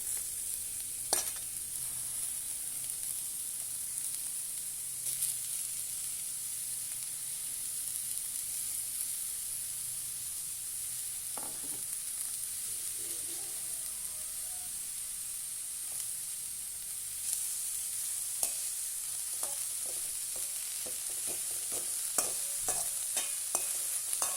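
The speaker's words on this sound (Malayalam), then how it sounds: "മാറ്റി വെച്ചിരുന്ന തേങ്ങ മിശ്രിതം ചേർത്ത് കൊടുക്കാം" Grated coconut mixture stirred into a cooking pan, a steady sizzle and hiss under scattered scraping taps of a spoon that grow busier toward the end; no talk.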